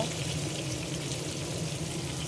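Food frying all at once in a large frying pan, making a steady, moderate hiss and crackle that holds evenly throughout with no talking.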